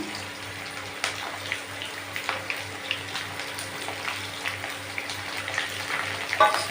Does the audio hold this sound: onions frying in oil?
yes